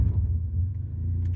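A car engine rumbles steadily at close range, a low continuous drone with no voices over it.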